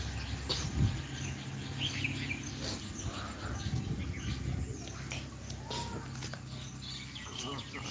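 Small birds chirp and call in a village at evening, with scattered short twittering notes over a steady background of insects and distant voices.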